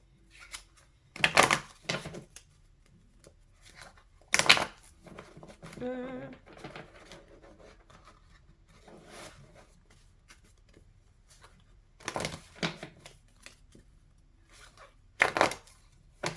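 Oracle and tarot cards are shuffled by hand during a reading. Several short, crisp riffling bursts are separated by quiet pauses, with a brief bit of voice in between.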